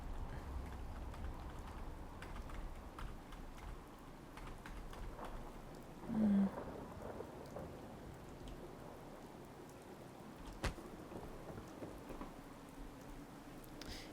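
Steady rain falls in the video game Fallout 4, a soft continuous patter with faint low rumbles and an occasional click, heard indoors with no one talking.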